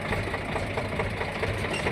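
A tractor engine idling, a steady low chugging rumble with even rapid knocking pulses, close and continuous throughout with no talk.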